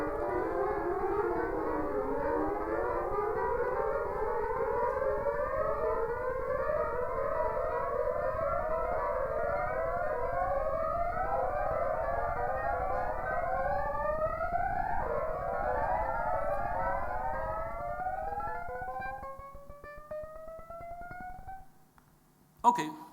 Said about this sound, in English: here you can hear a same melody repeated 5 times in different tempos, so it is out of